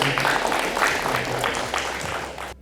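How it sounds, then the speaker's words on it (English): A dense round of audience applause for speaker Santosh at a talk, steady and fairly loud throughout, then cutting off sharply at the end, with faint voices underneath. "Can I request you all to give a big round of applause for him?"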